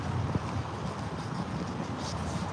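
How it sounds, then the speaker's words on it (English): Steady wind blowing outdoors, a constant loud rushing and low buffeting against the microphone with no pauses and no talk. "It's always windy out here too."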